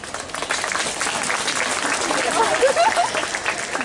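Audience clapping at a village festival stage show, a dense continuous patter of applause with some crowd murmur mixed in.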